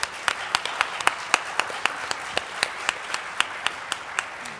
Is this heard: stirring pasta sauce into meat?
no